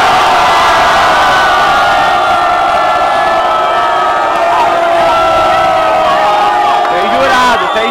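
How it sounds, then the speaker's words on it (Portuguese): Loud, sustained crowd cheering at a 2017 state semifinal battle in Botafogo, with many high-pitched screams and shouts blending into a steady roar. "Barulho pra Cepante, Botafogo"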